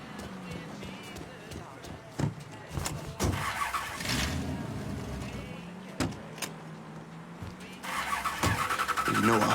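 An engine starts up on a car in the crime game Mafia III, a short cranking burst and then a steady idle rumble, with a door thud and window whine nearby while people talk over it.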